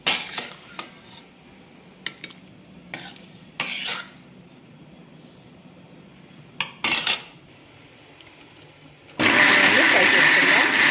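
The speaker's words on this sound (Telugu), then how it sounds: "ఫ్రై చేసి పెట్టుకున్న ఆనియన్స్ని గ్రైండ్ చేసుకుందాం" A kitchen blender grinds fried onions into paste for masala egg curry, a loud steady whir filling the last two seconds, after scattered clinks of cutlery and dishes and brief rustles.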